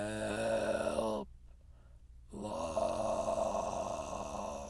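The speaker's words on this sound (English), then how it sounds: "With a startled snore, the coach woke." A sleeping railway coach character snores in long, drawn-out rumbling breaths, two loud groaning snores separated by a short silent pause, close and alone.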